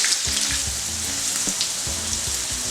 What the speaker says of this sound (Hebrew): כאן טיגון קצת שונה מכאן, האש פה טיפה יותר גבוהה, צריך להזהיב אותו